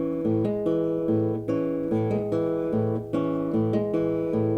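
Acoustic guitar picked fingerstyle in a repeating pattern, a low bass note alternating with ringing treble strings, some beats doubled with two strings together, clear and close with no talking.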